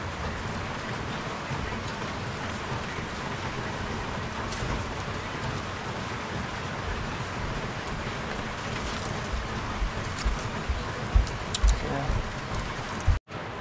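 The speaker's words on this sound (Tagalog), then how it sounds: "Narinig nyo ba yung ulan mga day? Sobrang lakas." Steady, heavy rain pours down continuously with a broad hissing roar, a few louder knocks near the end.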